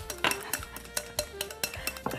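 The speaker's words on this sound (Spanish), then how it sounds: "Otro huevo. Venga. Y volvemos a batir." Eggs whisked into a sponge batter of condensed milk, hazelnuts and raisins in a bowl, heard as quiet, quick rhythmic clinks and taps of the whisk against the bowl's sides, with no talking.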